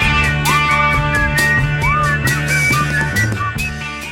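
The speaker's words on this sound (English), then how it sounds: "this version also featured some whistling, perhaps to evoke birdsong" Whistled melody in an early version of a song, rising and falling over a full band with drums and guitar, the whistling riding on top of the music.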